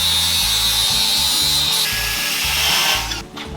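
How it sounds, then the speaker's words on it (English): A power grinder cuts weld and rust off a car exhaust pipe, a loud high whine and rasp with a few brief changes in pitch, close up, before it winds down at the end. "We're gonna take and grind this down. There's some weld on it and lots of rust."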